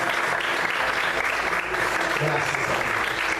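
Loud, dense applause from a church congregation fills the moment continuously, with a voice briefly speaking over the clapping.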